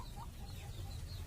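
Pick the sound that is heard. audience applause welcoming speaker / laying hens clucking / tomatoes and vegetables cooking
laying hens clucking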